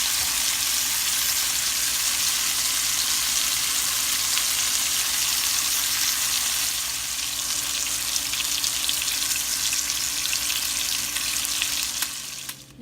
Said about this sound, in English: I'm cooking my steak in coconut oil.